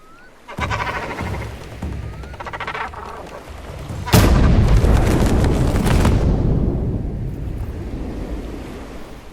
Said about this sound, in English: I was expecting a bigger explosion.